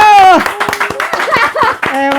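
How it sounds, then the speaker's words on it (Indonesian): A few people clap by hand in a casual vlogcast setting, loud and close, with irregular claps mixed under talking and laughter. "tepuk tangan dong weh"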